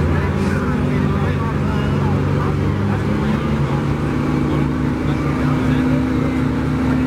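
A 1980 Peterbilt truck with about 800,000 miles rolls past in a truckers' day parade, its steady low diesel drone continuous and fairly loud throughout, with crowd and announcer voices mixed in.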